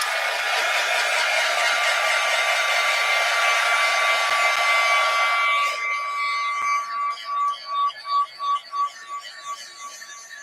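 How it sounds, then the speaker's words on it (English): A heat gun blasts hot air over fresh paint in an art session, a loud steady whooshing whir for several seconds, then pulsing in short bursts as it is switched or moved on and off, with no talking. "Here's my heat gun."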